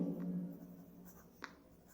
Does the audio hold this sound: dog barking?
no